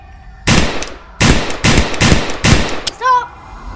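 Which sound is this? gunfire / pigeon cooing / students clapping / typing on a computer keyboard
gunfire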